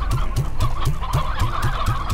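Chickens in the video game Slime Rancher cluck in a steady, rhythmic series of short calls, roughly six or seven, close and fairly loud over soft background music.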